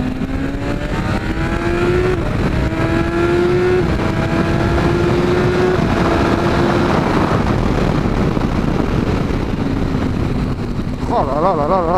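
A BMW S1000RR motorcycle engine on a test ride, revving and climbing through gears in a series of rising tones, loud and close with steady wind rush.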